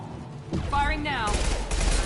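Gunfire in Mass Effect 2 crackles in rapid bursts close by, with a voice talking over the shooting and other battle sounds.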